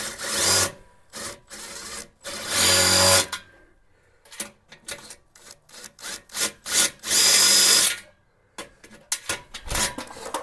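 Power drill turning a socket slowly while fitting a custom Colorbond gate, heard as several whirring bursts of varying length separated by short pauses, fairly close.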